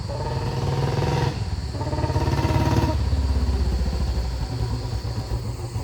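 A Royal Enfield Bullet, a BS6 fuel-injected model converted to a carburettor, idles with a steady low thump, close and loud, its beat easing slightly as the revs drop.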